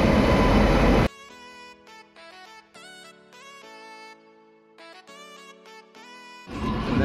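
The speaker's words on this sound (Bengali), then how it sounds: "এইমাত্র ট্রেন প্রবেশ করছে সাঁতরাগাছি জংশন।" A train pulls into Santragachi junction with a loud, close rumble at the start and again at the end. Steady melodic tones fill the quieter stretch between.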